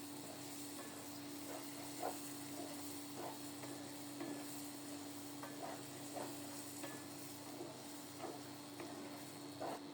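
Food frying in oil in a kadai in a home kitchen, with chilli powder and salt added; a faint, continuous sizzle with light crackles and occasional small pops, and no talking.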